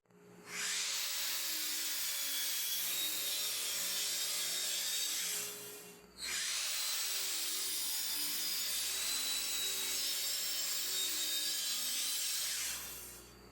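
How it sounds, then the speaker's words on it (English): A saw cuts a piece off a wooden board in a woodworking shop, two loud sustained cutting passes separated by a short pause, alone and close. "the first thing we're going to do is cut a piece of this board off"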